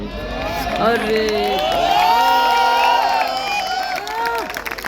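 An audience gives poet Fahmi Badayuni a loud welcome at an evening gathering in Lucknow, with sustained cheering, shouts and applause close by and voices rising over the crowd throughout.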